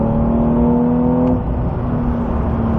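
A Porsche 992 Carrera T flat-six drones steadily from inside the cabin on back roads, its induction note holding a steady tone, then easing slightly partway through, loud and continuous with no talk.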